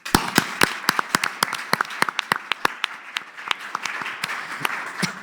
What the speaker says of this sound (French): Moi, je vous propose qu'on applaudisse Léonore Monconduit.